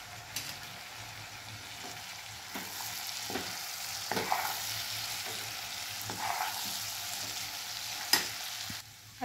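A steamed vegetable mixture gets stirred in a pan in a home kitchen, soft sizzling under scattered scrapes and taps of a spoon, fairly quiet and close, with a sharper clank near the end.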